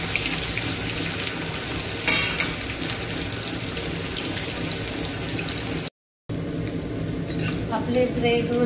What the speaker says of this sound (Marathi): चला तर मग आपण तळून घेऊया